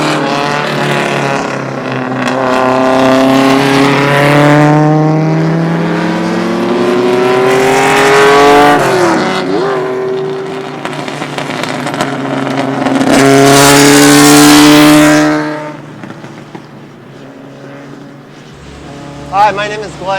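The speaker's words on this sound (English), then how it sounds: "There's the Hyde Park 35 coming up, driven by Tim Breck." A vintage Trans Am B Sedan race car at the Velocity Invitational passes close by with a loud, rising engine roar that peaks and fades, then a brief quieter stretch follows.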